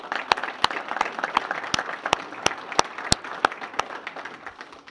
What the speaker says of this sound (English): I want to give all of you a round of applause as well.